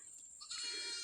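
A single goat bleating once, faint and distant, from a farm where an old chicken house stands, with quiet background before the cry.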